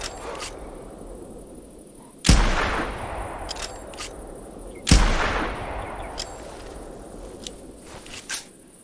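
Two loud rifle gunshots at a black bear in the hunting game theHunter Classic, spaced a few seconds apart, each with a sharp crack and a long rolling echo over quiet outdoor ambience.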